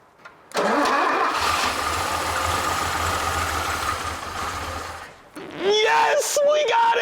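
An old Mercedes engine, parked for decades, cranks and catches, then runs loud and steady for several seconds. It dips briefly before revving back up as a voice cheers over it.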